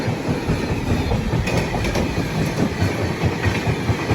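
The Howrah Mail express runs along the rails with a loud, steady rumble and rhythmic clickety-clack of wheels over joints, heard close from on board or trackside.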